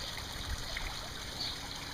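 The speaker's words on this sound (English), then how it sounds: "Waterfalls are up and running." A backyard pond waterfall spills into a small stream, giving a steady, even rush and trickle of running water, fairly soft and constant throughout with no voices.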